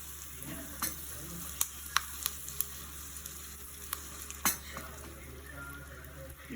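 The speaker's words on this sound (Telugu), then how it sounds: "బాగా వేగనివ్వాలి" Spices and curry leaves fry in oil for a brown chickpea dal tempering, giving a continuous sizzle. Sharp spatula clicks and pan taps are scattered through it, and nobody speaks.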